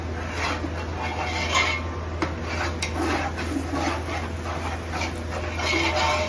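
Mutton biryani being stirred continuously in a pot, with faint metallic scraping and clinking of a spoon against cookware under steady background hum and noise.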